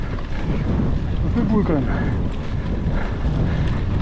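A strong headwind batters the microphone on a road bike ride near Mont Saint Aubert in Belgium, a loud, steady roar that fills the whole stretch, with a rider speaking briefly over it.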